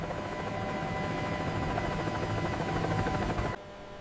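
A military helicopter flying, a steady loud rotor and engine roar with a constant drone that holds for a few seconds and then drops off abruptly near the end, with no talking.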